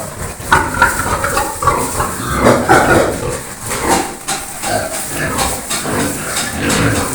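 Pigs in a barn grunt and snuffle continuously, loud and close, with overlapping grunts and occasional higher squeaky notes throughout, and no speech.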